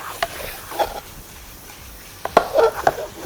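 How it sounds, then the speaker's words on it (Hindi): Chicken is fried with ginger garlic paste and masala, giving a low, steady sizzle with a few sharp scrapes and clacks of stirring, a cluster of them near the end, close by and no voices. "इसी मसाले के साथ अदरक लहसुन का पेस्ट और चिकन को आप अच्छी तरह से भून लें"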